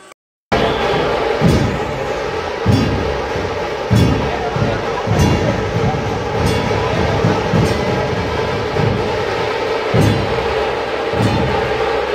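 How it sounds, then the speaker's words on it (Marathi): Vande Bharat Express rolling into Kankavli railway station amid a welcoming crowd, with a loud continuous rumble and regular rhythmic clacks of wheels over rail joints, close by, with crowd noise and voices mixed in. "या गाडीचे कणकवली रेल्वे स्थानकावर 1 वाजता आगमन होताच"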